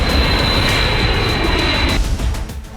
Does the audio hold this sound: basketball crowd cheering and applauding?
no